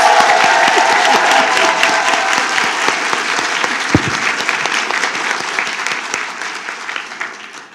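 Loud, dense applause in a school board meeting room honoring perfect-score student scholars, sustained clapping from a large crowd that slowly tapers toward the end, with a faint tone underneath.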